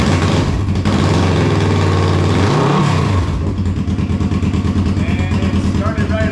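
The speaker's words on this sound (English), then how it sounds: "turn the bike on." An old motorcycle that had sat unused since 2012, suspected of a bad injector, fires up and runs with a loud, steady engine drone, a brief rev midway, continuing to idle close by.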